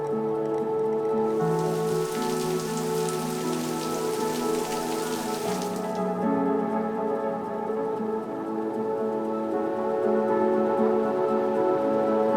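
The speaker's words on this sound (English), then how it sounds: "I don't want to get wet, but I love the rain." Steady rain falls outdoors on a wedding day at a rural retreat, a dense patter that swells brighter through the first half before settling, with sustained tones running underneath and no voices.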